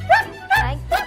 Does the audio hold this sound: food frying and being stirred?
no